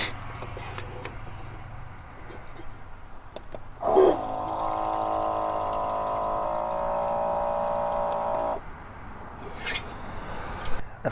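A small pump whirs steadily for several seconds as water flows from a 5-gallon bottle in a van, beginning with a click and stopping abruptly, with faint handling noises around it.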